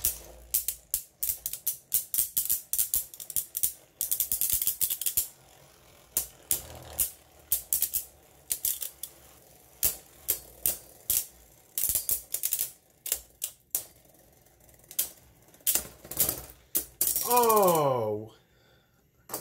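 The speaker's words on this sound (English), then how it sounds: "Let's see if I can actually launch this with this launcher too." A Beyblade launcher ratchet is wound in rapid clicking bursts for a Dynamite Battle versus Sparking mirror match, then the top launches with a quick rising whir at the end.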